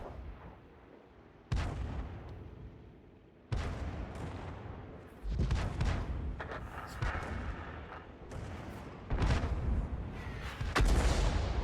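The Grille self-propelled gun in World of Tanks fires heavy booming shots, several loud blasts spaced a couple of seconds apart, each with a rumbling decay.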